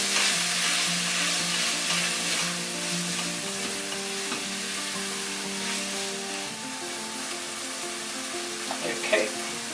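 Tomato puree sizzles and fries steadily in a hot pan, with soft scraping of stirring running through a continuous crackling hiss, close and even throughout.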